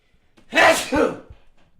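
A single sharp human sneeze, close and loud, with an indrawn breath and then a two-part burst that quickly dies away.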